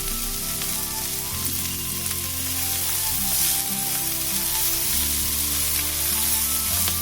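Egg chowmein frying in a pan, with a continuous loud sizzle and a steady hum running underneath throughout.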